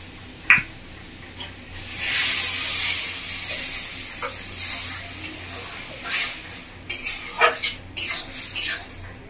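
Water goes into a sizzling ridge gourd and prawn curry in a pan, bringing a sudden loud hissing surge that fades, followed by scattered clinks and scrapes of utensils against the pan.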